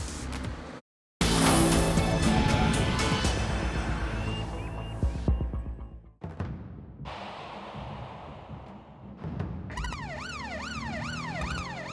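A police car speeds at night to catch up with a suspect car, its engine roaring loudly, then its siren wails in a rapid rising and falling sweep near the end, with no talk.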